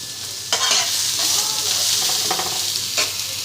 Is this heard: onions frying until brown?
yes